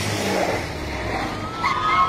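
Bus swerving hard to the left in a dramatized audiobook scene: a loud, sustained vehicle roar with engine and road rumble, ending in a brief tire squeal near the close, with no voices.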